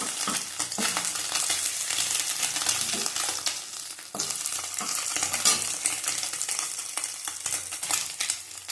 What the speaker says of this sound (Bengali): ওই তেলের মধ্যেই আমি সব ভাজবো।